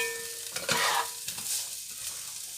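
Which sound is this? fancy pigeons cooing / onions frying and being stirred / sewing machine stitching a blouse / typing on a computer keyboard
onions frying and being stirred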